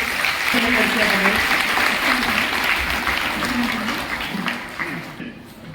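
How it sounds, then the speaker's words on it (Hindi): Sustained applause from a hall audience at a charity event handing out free sewing machines to women, dense clapping throughout and easing slightly near the end, with an announcer's voice running underneath. "जोरदार तालियां बजाइए।"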